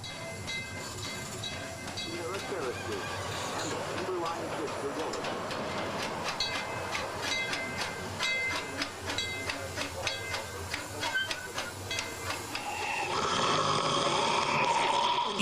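A Knott's Berry Farm amusement park train rolls along the tracks with a steady rumble and rhythmic clacking of wheels, overlaid by hissing and a murmur of passengers' voices nearby.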